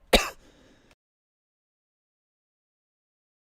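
A single sharp throat clearing from a dry mouth rings out up close, trailing off into a short rasp before silence.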